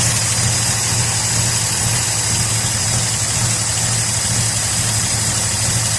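A car engine idles steadily up close, a constant low mid-pitched thrum with even vibration and no speech; the engine is noted as needing plugs and wires.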